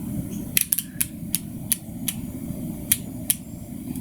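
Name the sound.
torque wrench clicking while tightening Austin Healey cylinder head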